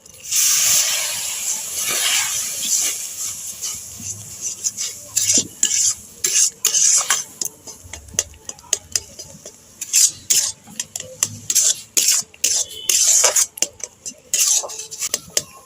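Nikuti sweet dough being stirred in a pan over low heat, with repeated scraping and knocking strokes of a spoon against the metal under a faint hiss of cooking. The strokes come in a steady, irregular rhythm, close and fairly loud.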